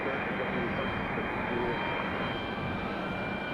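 An Airbus A320-200 jet airliner on approach at about 1,800 feet gives a steady, broad roaring whine that holds evenly throughout.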